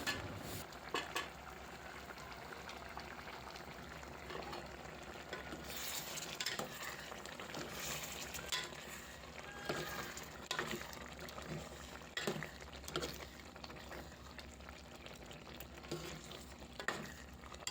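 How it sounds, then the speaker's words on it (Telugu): An okra and dried fish curry cooks on a medium flame, giving a steady bubbling sizzle with frequent clinks and scrapes of a utensil against the pot, close and continuous. "ఇప్పుడు మీడియం ఫ్లేమ్లో పెట్టి ఒక ఫిఫ్టీన్ మినిట్స్ వరకు బాయిల్ చేసుకోవాల్సి ఉంటుంది"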